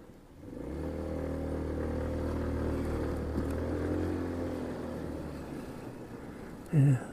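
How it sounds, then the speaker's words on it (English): A car passes along a village road beside a green and pond, its engine rising to a steady low hum for several seconds, then fading away as a brief voice cuts in at the end. "This car comes through."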